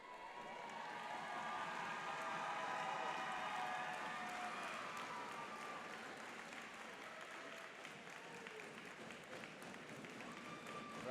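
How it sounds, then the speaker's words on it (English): A high school varsity boys basketball crowd in a gym cheers and applauds before tip-off, a broad, sustained roar of clapping and voices with a faint organ-like tone running underneath. "Crowd getting all ramped up."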